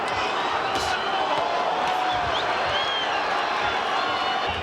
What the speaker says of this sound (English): Big crowd on hand tonight to watch this exhibition of boxing.